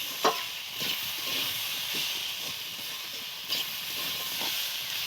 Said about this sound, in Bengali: চিংড়ি মাছ ভাজাগুলো এবার দিয়ে দিলাম